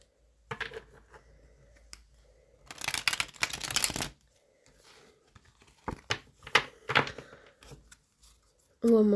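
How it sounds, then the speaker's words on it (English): Tarot cards being shuffled by hand in bursts of riffling and sliding, with brief card taps between, close and fairly quiet, with occasional soft talk. "One more shuffle"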